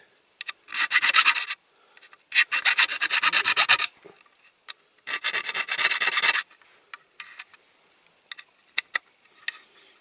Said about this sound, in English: That little jockey wheel I'm going to have to file the end of the axle again.